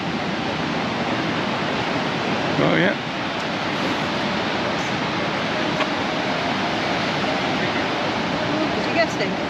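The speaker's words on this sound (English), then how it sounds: "For Mallorca, they are quite big waves." A continuous broad roar of fairly big ocean waves breaking on a beach at Paguera, Mallorca, steady and fairly loud, with a brief spoken exclamation partway through.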